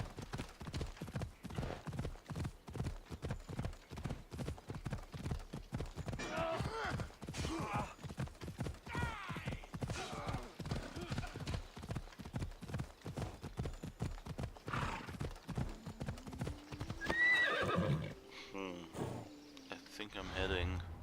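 Horse hooves clip-clop in a steady, continuous trot throughout a stretch of Assassin's Creed Odyssey gameplay in ancient Greece, with a brief whinny near the end and ambient game sounds underneath.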